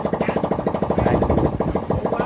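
Yamaha Exciter motorcycle engine running steadily after an oil pump replacement, a fast, even mechanical patter close to the microphone with no talk over it.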